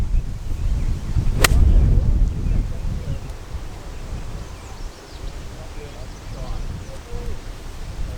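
Wind sweeps across an outdoor golf course at Katepwa Beach Golf Club, rumbling and buffeting the microphone in uneven low gusts that peak early and then ease, with muffled voice sounds mixed in.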